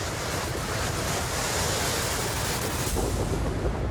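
Hurricane Sandy's storm winds roar with heavy surf and pounding waves, a dense, steady wash of noise that stays loud throughout with no voices.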